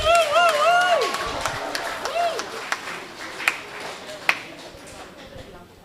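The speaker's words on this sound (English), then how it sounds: "give him a round of applause" An audience at a primary schools Kweyol spelling bee gives a round of applause, moderately loud clapping that fades out, with a few sharp taps and a voice talking at the start.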